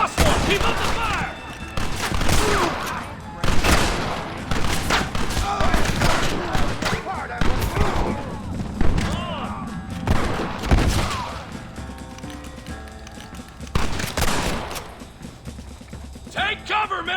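Gunfire in Red Dead Redemption: rapid overlapping rifle and pistol shots in a heavy exchange, loud and close, with shouted voices breaking through the fusillade.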